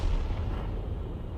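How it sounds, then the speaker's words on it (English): An M12 artillery gun in a video game fires a round with a deep, heavy boom that hits at the very start and rumbles on briefly before dying away. "He's fired a round in there to try and destabilize that Scorpion G, get some splash on him"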